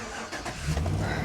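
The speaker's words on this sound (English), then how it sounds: "So let's crank the truck and see if we get any voltage there or not." A Chevrolet Silverado truck engine cranks and catches, a close, loud mechanical churn that builds into a steady running rumble over about a second.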